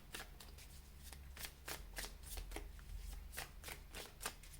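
Tarot cards shuffled by hand in a steady run of crisp riffling bursts, close and fairly quiet, with no talking over them.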